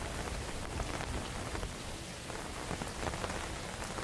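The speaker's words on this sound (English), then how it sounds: "The rain's increasing." Steady heavy rain hisses on surfaces throughout, a dense unbroken wash of drops with no voices, from the rainy neighborhood of a PS1-style horror game.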